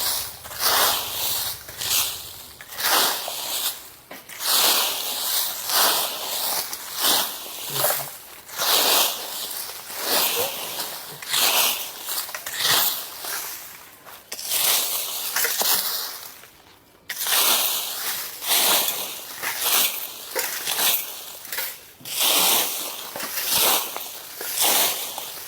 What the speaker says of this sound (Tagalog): So, umpisahan na natin yung pagwawalis dahil wala nga tayong walis na tingting